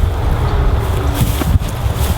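Wind buffets the microphone outdoors with a steady low rumble and gusty bursts, no clear speech.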